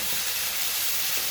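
Masala frying in hot oil in a pan for rasam gives a steady, close sizzle and hiss that holds level throughout, with no voices over it.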